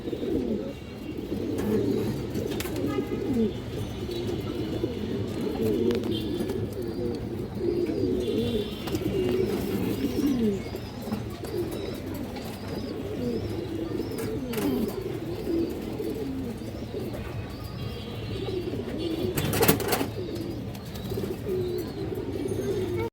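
Old-breed pigeons, including a Sabchila male, coo in repeated soft rolling phrases close by, a steady chorus lasting throughout with a couple of sharp clicks.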